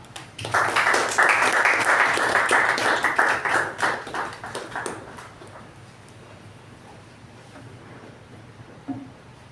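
A Toastmasters meeting audience gives a hearty round of clapping to welcome the acting president, loud and dense for about five seconds before thinning out and fading into quiet room tone.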